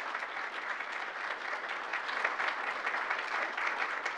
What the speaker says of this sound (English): And I would ask you to please give her a round of applause